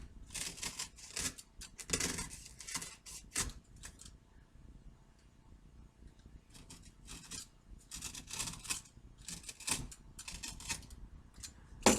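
A blade cuts foam for a Spitfire model repair, making rasping, scraping strokes in uneven bursts, close by and moderately loud, with quiet gaps between them.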